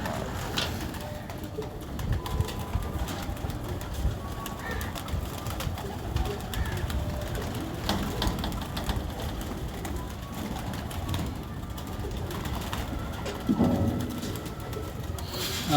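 Majnu Teddy pigeons coo in a steady, busy loft, soft low coos repeating over continuous background noise and faint rustling, fairly close throughout.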